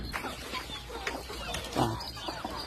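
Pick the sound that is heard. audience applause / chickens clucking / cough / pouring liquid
chickens clucking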